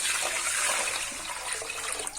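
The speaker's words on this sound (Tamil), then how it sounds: "முதல்ல வெள்ளைப்பூடையும் அரிசியை சேர்த்து ஒரு 1 லிட்டர் போல் தண்ணியை ஊற்றி" Water poured from about a litre's measure into a pot holding rice and garlic, a steady splashing gush that stays loud and even throughout, with no voices.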